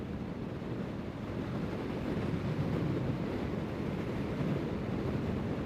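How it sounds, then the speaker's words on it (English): Strong wind roars across the microphone while riding a motorcycle, a continuous low rumbling buffet that swells a bit after the first couple of seconds. "Pretty windy out, y'all. Pretty windy."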